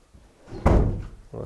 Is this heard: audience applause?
no